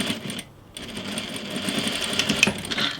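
A sewing machine stitches a diagonal join in bias tape, its steady motor whir running close and continuous after a brief pause near the start, with no one talking.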